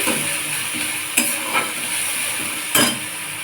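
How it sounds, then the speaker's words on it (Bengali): Onion paste frying in hot oil in a pan, a steady close sizzle with a few sharp spoon-against-pan scrapes as it is stirred. "দিয়ে দেবো পেঁয়াজ বাটা। বাটাটা একটু কষে এলে"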